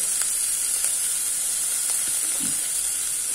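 Chopped tomato and turmeric going into frying onions in a pan, a continuous loud hiss and sizzle with a few faint knocks and a short low stir.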